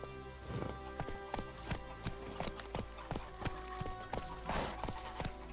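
Roach the horse's hooves beat in a quick, regular galloping rhythm in The Witcher 3, clear and close over a game music bed, with a brief whinny-like tone near the end.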